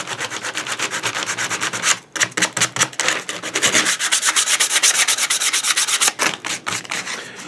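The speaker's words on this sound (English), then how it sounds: "We're going to handle those seam lines with 60 grit paper." A coarse 60 grit sanding sponge is rubbed hard over the seam lines of a cast Ark of the Covenant angel prop. It makes steady, loud, rhythmic rasping strokes that run nearly the whole time with a brief pause.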